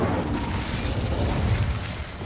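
A fire spell, Incendio, cast in the video game Hogwarts Legacy bursts out as a loud, steady roar of rushing flame that stays dense and forceful for about two seconds.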